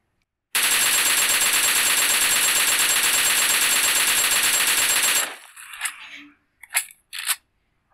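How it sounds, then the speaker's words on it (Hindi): In PUBG Mobile, an AKM fitted with a 40-round jungle style magazine fires a loud, sustained automatic burst, then a few quick, sharp mechanical reload clicks follow in quick succession. "देखते हैं कितना क्विक ये रिलोड करता है"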